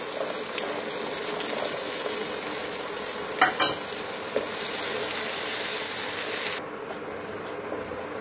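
Boiled peas fry in a pan of samosa filling, a steady broadband sizzle throughout with a few brief scraping stirs of the spoon midway, continuing alone without talk.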